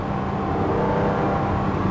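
A 1972 Ferrari 365 GTB/4 Daytona engine drones loudly and steadily while driving, a dense close mechanical roar holding near constant pitch without spoken words.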